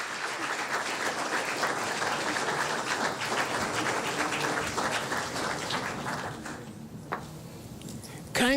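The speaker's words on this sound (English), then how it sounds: "A round of applause for our Governor General." Ceremony audience in the Bahamas applauding for the Governor General, sustained dense clapping that tapers off near the end, with a voice heard over it.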